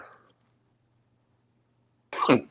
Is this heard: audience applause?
no